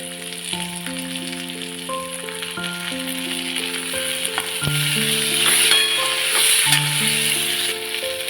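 Cashews and tomato are added to golden-brown onions frying in a pan for paneer tikka masala, giving a steady sizzle and crackle under background music.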